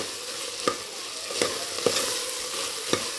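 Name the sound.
mint and coriander leaves frying in a pan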